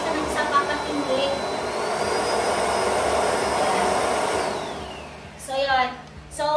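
A Realme handheld vacuum cleaner runs close by with a steady whirring drone and a thin high whine that rises in pitch, then winds down near the end as a person starts speaking.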